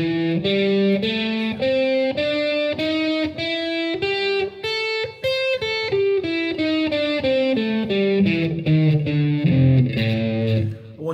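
A distorted guitar plays a minor blues scale one note at a time, climbing up and then descending, each note clear and evenly paced.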